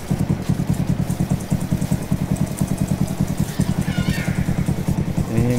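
A Yamaha YTX 125 motorcycle engine runs nearby with a steady, rhythmic thumping idle, loud and close, no talking.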